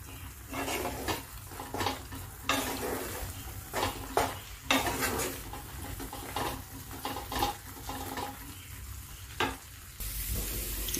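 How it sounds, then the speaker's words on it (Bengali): Banana stem paste with coconut fries quietly in a pan with a soft sizzle while a utensil stirs and scrapes it in irregular bursts, close and low in level. "সুন্দর করে আমি ভাজা করে নিলাম। ভাজা প্রায় হয়েই আসছে, এই যে প্যানের গায়ের থেকে উঠে আসছে।"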